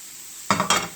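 Italian sausages and onions frying in a pan over medium heat, a sudden burst of sizzling after a quiet moment, rising twice in quick succession, close and fairly loud.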